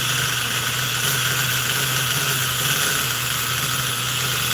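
A Force .25 CNC glow-fuel model airplane engine runs steadily during break-in with its glow plug heated, giving a loud, continuous high-pitched buzz with a constant drone throughout.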